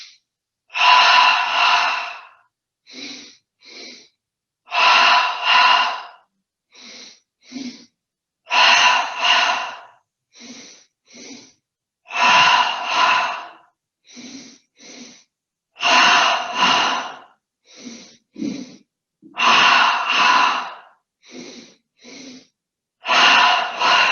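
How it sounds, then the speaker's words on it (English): A guided seated yoga breathing exercise: repeated double inhales through the nose, each pair of quick sniffs followed by a longer exhale. The cycles repeat steadily and sound close and clear, with no talking. "we're going to begin breathing in through the nose twice. The belly will fill up."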